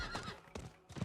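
A horse in Diablo 4 gives a short, close neigh mixed with a few clip-clopping hoofbeats, all over in about a second.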